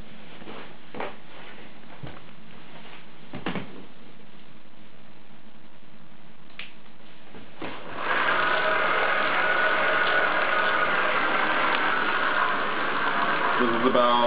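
A Tongxin hub motor on a mid-drive chain-drive e-bike conversion runs quietly with faint mechanical ticking, then a louder whirring hum from the spinning drivetrain and wheel under brake load.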